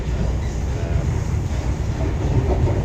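Riviera sleeper train rolls along the rails, a steady low rumble with a rhythmic clatter beneath it and a constant airy hiss, heard from inside the carriage with no talking.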